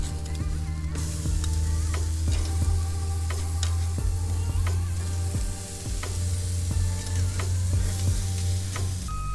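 Lemongrass pork chops sizzle steadily on a grill, with a constant low hum beneath the frying and sharp clicks and clatters as the meat is turned over with tongs.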